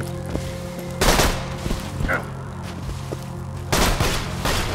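Pistol gunfire in the video game Borderlands 2: loud, dense bursts of shots near 1 and 3.7 seconds, with lighter single reports and a steady low background hum between them.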